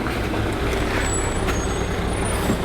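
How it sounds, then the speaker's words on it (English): A garbage truck pulls up close with a loud, steady diesel rumble, and high air-brake hisses and squeals cut in sharply near the middle and again toward the end. "Garbage truck's almost at my place."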